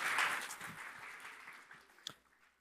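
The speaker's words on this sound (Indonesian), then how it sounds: "Boleh tepuk tangan buat Tuhan." A church congregation applauds after a sermon, a broad burst of clapping strongest at the start and thinning out over a couple of seconds.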